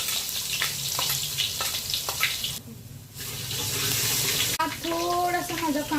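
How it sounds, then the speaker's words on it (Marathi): Garlic tempering spits and sizzles in hot oil for a vegetable dum biryani. The close, spattery hiss drops out briefly midway, then returns, and a voice comes in near the end. "फोडणीच्या लसणाचं तेल उडतं"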